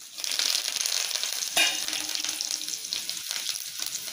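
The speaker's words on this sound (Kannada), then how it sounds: "ಸಾಸಿವೆ ಜೀರಿಗೆ ಎಲ್ಲ ಚಟಪಟ ಅಂತ ಇದೆ" Mustard seeds, cumin, chana dal and curry leaves tempering in hot oil for a radish chutney, giving a steady close sizzle and crackle with a louder burst midway as the leaves hit the oil, and no talk.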